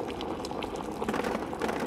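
Bubbling sulfur in Amnesia: Rebirth, a short stretch of steady boiling with soft rapid pops and gurgles, close and unaccompanied by speech.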